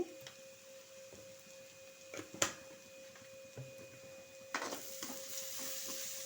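Grated carrots for carrot rice sizzling faintly in a pan, with a few spoon scrapes and knocks from stirring over a steady low hum.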